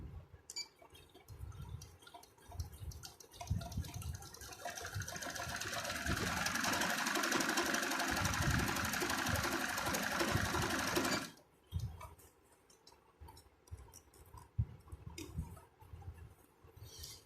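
Janome 8200 sewing machine stitching over a cord, a faint motor hum that rises into a sustained run of stitching for several seconds before cutting off, followed by quieter handling noises.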